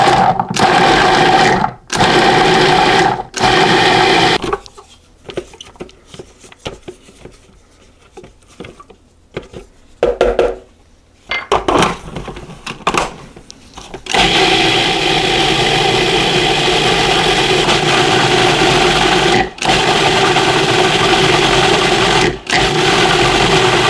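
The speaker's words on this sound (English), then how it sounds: "we're going to blend this until it's smooth and uniform" A blender whirs loudly as it purees garlic, ginger and onion into a paste for homemade Korean kimchi, running in long steady stretches broken by short stops and a quieter, choppier middle section.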